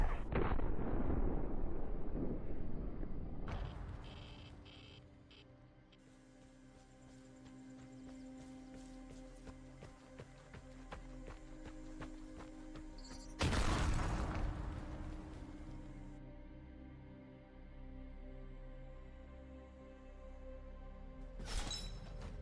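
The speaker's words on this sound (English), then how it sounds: "we can show you some of those explosions now" Heavy explosions in the video game Vigor boom and rumble, a loud blast at the start and another midway, with a lingering low roar between.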